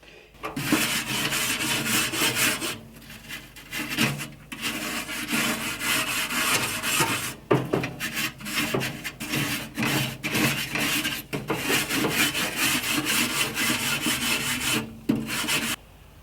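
Stiff brush scrubbing the metal grease deflector of a Louisiana Grills pellet grill, steady rasping strokes in a continuous rhythm with a few brief pauses, close and fairly loud with no talk.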